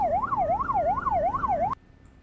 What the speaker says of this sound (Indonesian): ambil sana, ada ambulans nak lewat